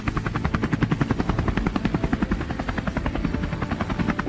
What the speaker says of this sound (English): John's helicopter roared through the sky, tearing across the horizon in pursuit of the beasts below